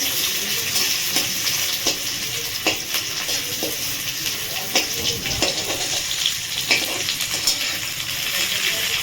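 Sliced onion and potato frying in a generous amount of hot oil in a pan, giving a loud, steady sizzle and crackle throughout with faint stirring noises.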